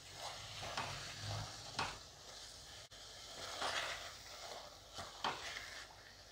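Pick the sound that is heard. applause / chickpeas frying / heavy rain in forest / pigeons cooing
chickpeas frying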